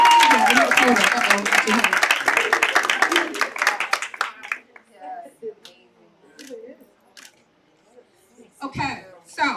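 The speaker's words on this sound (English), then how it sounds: "Let's give them a round of applause" An audience at an evening gathering gives a round of applause, dense clapping that stops abruptly partway through, followed by scattered voices, a child's exclamation and a few stray claps.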